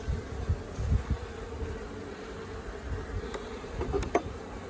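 Honeybees in a cold, queenless colony hum with a low, steady buzz as they fan their wings, with a few brief louder buzzes of single bees passing near.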